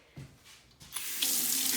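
Water gushes from a sink tap in a newly plumbed house: about a second of near-quiet with faint knocks, then a close, steady rushing stream that grows louder and holds to the end.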